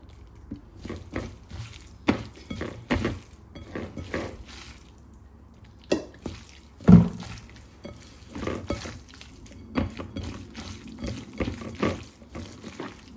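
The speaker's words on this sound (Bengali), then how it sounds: "এবার দিয়ে দিব সরিষার তেল।" Mustard oil poured into a cooking pot while making homestyle khichuri, with liquid trickles amid scattered clinks and knocks of utensils, close and moderately loud.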